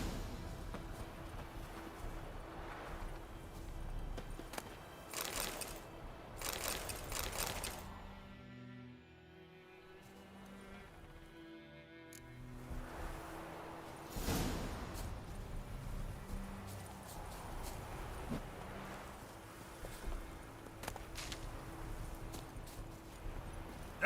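Horse hooves clip-clop at a steady gallop in The Witcher 3, a continuous rhythmic pounding at moderate volume under game ambience and music, with a brief quieter stretch in the middle before the hoofbeats return.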